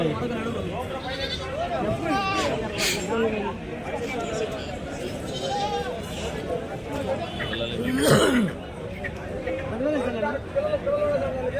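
Goats bleat repeatedly at a busy weekly goat market, several calls rising over steady crowd chatter and nearby voices throughout.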